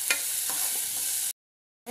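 Onions frying in oil in a pan give a steady close sizzle with a few light stirring scrapes, cutting off abruptly into silence before resuming briefly at the end.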